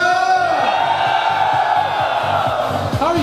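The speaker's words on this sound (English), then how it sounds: "This crowd's crazy." A large crowd at a live event cheers, whoops and yells continuously, loud and close, with shouting voices rising and falling throughout.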